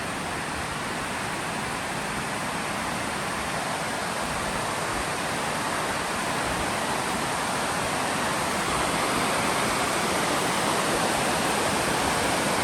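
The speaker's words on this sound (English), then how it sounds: "So this is the Woodhaven Spillway" Water rushing over the Woodhaven Spillway at Montgomery Bell State Park in Dickson, Tennessee, a loud, constant roar of falling water heard close and unbroken throughout, with no talking.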